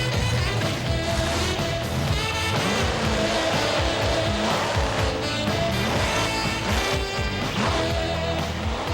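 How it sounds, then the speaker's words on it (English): Monster trucks on wide, low-pressure tires tear across a stack of crushed cars, with loud roaring engines rising and falling in repeated revving bursts alongside crunching, clattering impacts. "the trucks go tearing across a stack of crushed cars"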